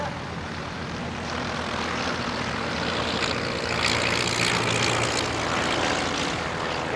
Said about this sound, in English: the aircraft lands and taxis by